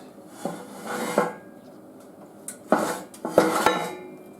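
A ground steel piece slides into the frame of a forge press converted from a log splitter, giving a few short metallic scrapes and clinks, with quiet pauses between the bursts.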